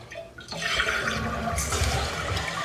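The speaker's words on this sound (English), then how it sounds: "Okay, so we're gonna let just a little bit of water out." Water released from a toilet tank, starting with a short gurgle and then a steady rushing flush and trickle that fills the rest of the moment, close by and alone without speech.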